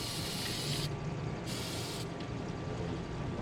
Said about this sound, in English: Spray the pull bar.